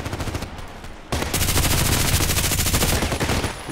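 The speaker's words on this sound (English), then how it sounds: "Blind shooting, sometimes it's working." Gunfire in the online shooter Contract Wars: a short lull, then a loud, sustained automatic burst of rapid, evenly spaced shots that runs for over two seconds before tapering off.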